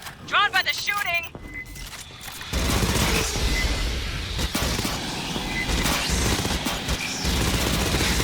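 Sustained automatic gunfire in the Aliens: Fireteam Elite game against Xenos, a dense, continuous roar of shots starting after a short stretch of chirping creature cries and clicks, with a voice briefly heard over it.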